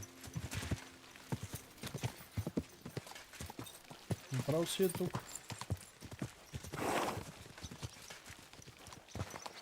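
Horse hooves clip-clop at a steady rhythm while riding in the medieval game Kingdom Come: Deliverance. The footfalls carry on throughout with a short neigh, and someone talks over them.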